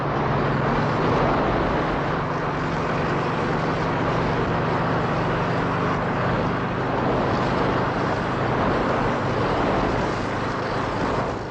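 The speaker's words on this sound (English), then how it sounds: "Then her engines are opened up to a steady 70 miles an hour." An SRN-2 hovercraft's engines roar at a steady 70 mph, giving a loud, continuous, even drone with a constant low hum and no breaks.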